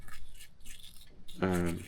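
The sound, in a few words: scrubbing a winch with a cut-down paint brush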